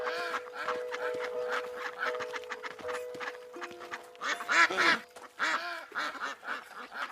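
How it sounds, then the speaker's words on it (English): Ducks quack repeatedly at close range in a dense, overlapping chorus of calls with constant activity throughout, some louder bursts standing out near the middle. "this place is lousy with ducks"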